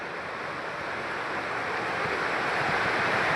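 The Bhagirathi monsoon waterfall near Vangani, outside Mumbai, roars as a continuous broad rushing of falling water, steady and slowly swelling, with no voices.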